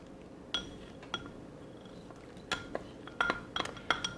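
Utensil clinks and scrapes in a pan as chorizo is mixed into scrambled eggs, a handful of sharp taps and scrapes over a quiet background with no talking.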